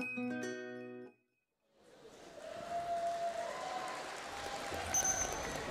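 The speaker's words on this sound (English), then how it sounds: "You hear them embracing the applause of the crowd" Crowd applause fills a FIRST Global robotics competition venue, following a brief chime and a moment of silence. Broad, steady clapping and crowd noise continue to the end.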